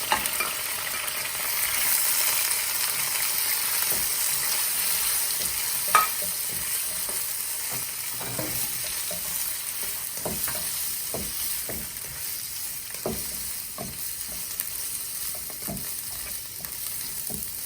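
Steady loud sizzling of frozen mixed vegetables and fresh green pepper frying in hot oil for a restaurant-style dragon chicken, with intermittent scraping stirs and clicks of a utensil against the pan throughout.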